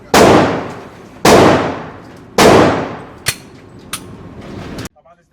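Three loud gunshots from rifles at a busy outdoor shooting range boom in quick succession, each with a long decaying echo, followed by two sharper, quieter distant shots.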